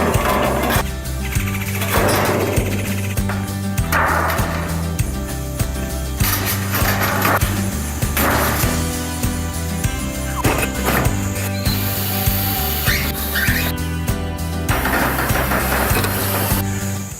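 A power drill drives screws into the trim of a wind-damaged metal building, a loud steady motor whine with pulsing bursts as each screw bites, continuous and close.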